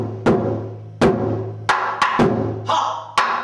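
Taiko drum played in a hocket phrase, with sharp, booming strikes at an uneven rhythm, about eight hits with some close doubled beats and a rim-like click among them, loud and close without talking.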